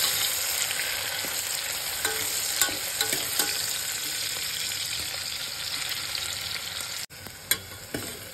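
Something frying in a pan toward golden brown before mushrooms go in for a mushroom pulao, a continuous loud sizzle with regular scraping stir strokes and a few sharper clinks near the end, no voices.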